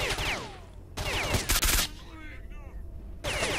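A semi-automatic sniper rifle fires in S.T.A.L.K.E.R.: Shadow of Chernobyl. Several loud, closely spaced shots come in short bursts, mixed with game effects and a voice speaking over them.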